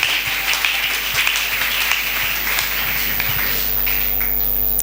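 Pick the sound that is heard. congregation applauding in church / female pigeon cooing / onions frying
congregation applauding in church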